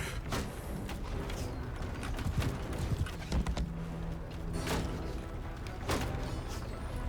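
Horse hooves clip-clop at a steady pace in Mount & Blade II: Bannerlord during a castle siege, with occasional thumps and clanks of battle mixed in.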